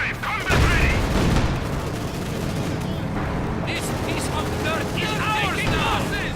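Anti-tank gunfire and explosions in the Company of Heroes 2 battle game, a Pak gun firing on an Su-85 tank, with booming blasts and a steady rumble of combat over the whole stretch.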